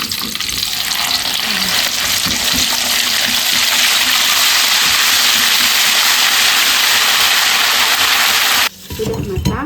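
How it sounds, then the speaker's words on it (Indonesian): Spice paste fries in a pan with a loud, steady, close sizzle lasting about nine seconds, then cuts off abruptly and leaves quieter stirring sounds. "saya akan menggoreng bumbunya ini ya teman-teman untuk teman makan saya"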